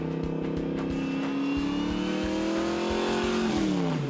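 A Yenko Camaro muscle car accelerates hard, its engine note climbing steadily in pitch with a loud, continuous rumble, then dropping briefly as the gear shifts, close and without any talk.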